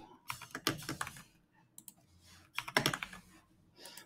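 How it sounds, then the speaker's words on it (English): Bursts of quick keyboard typing, clicky keystrokes in two flurries with a pause between, close and fairly quiet. "why am I typing this out?"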